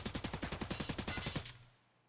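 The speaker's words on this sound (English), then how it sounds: "So let's say I shoot out a couple of bullets." A burst of full-auto gunfire from a rifle in the shooter game Escape from Tarkov: a rapid, steady string of about fifteen loud shots, then a short decaying tail into quiet.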